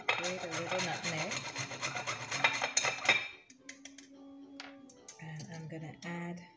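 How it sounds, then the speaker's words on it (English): Close, rhythmic rasping strokes of a small grater scraping whole nutmeg, then quieter scattered scrapes and a soft voice. "Grate a little nutmeg."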